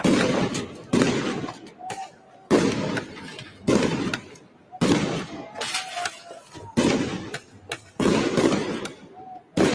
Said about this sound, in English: These are rubber bullets being shot at protesters.